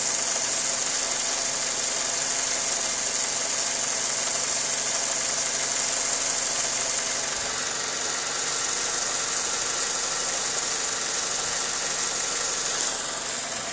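A 2000 Ford Focus engine idles with heavy vibration, a steady, continuous mechanical drone with a faint knocking texture, heard alone at close range throughout.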